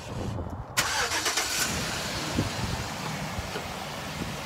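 A lifted 2011 Chevrolet Silverado 1500 Z71 pickup, remote started, cranks and catches, then settles into a steady idle with broadband rumble and hiss throughout.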